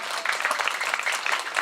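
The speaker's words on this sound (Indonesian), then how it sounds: "tepuk tangan untuk Riyadul Hidayah" Dense, continuous crowd applause at an Islamic religious gathering in Garut, lively and fairly close, with no gaps.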